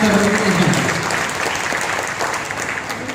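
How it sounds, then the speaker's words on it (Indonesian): Audience applause for Dr. Tony at a ceremony in Riau, a dense steady clapping that fills the whole stretch at fairly loud level, with a brief voice at the start. "Tepuk tangan sekali lagi kepada Dr."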